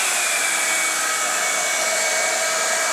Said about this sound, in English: I'm gonna go in with my blow dryer and I'm gonna put it on the